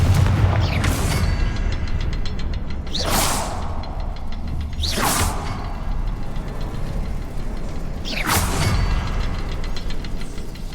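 Repeated fire spell blasts in the Hogwarts Legacy video game, four sharp whooshing bursts spaced a couple of seconds apart over a steady low rumble of game ambience, with no talking.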